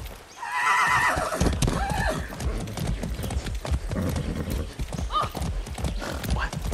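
A horse in the video game Far Cry 6 neighs, then its hooves clop rapidly and steadily, loud and close throughout.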